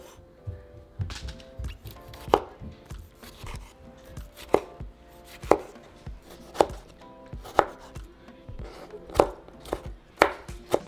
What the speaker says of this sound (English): once we have our tomatoes and onions chopped